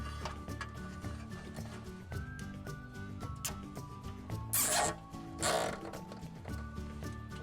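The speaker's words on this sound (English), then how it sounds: "Then zip tie the other arm the same way." Mechanical clicking and ratcheting of a large zip tie being cinched down around an RV awning arm on a Carefree of Colorado awning, a run of close rapid clicks with a couple of brief rustling bursts; no talking.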